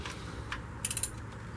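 A precision torquing tool ratchets briefly during EGR replacement on a 2006 Buick Rendezvous, giving a quick cluster of four or five sharp clicks over low background hum.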